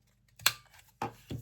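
Three sharp clicks of a corner punch cutting paper, spaced apart, close and crisp, with quiet between them.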